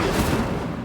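Incendio fire spell cast in the video game Hogwarts Legacy, a short loud whooshing blast that rolls out as a dense, booming burst of flame and fades within a second.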